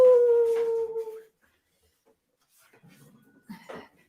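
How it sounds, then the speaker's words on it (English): A German Shepherd lets out a loud, drawn-out howl with a falling pitch for about a second. After a pause comes quieter, restless whimpering and snuffling, then a brief final whine. "The last thing you want is a German Shepherd barking across YouTube."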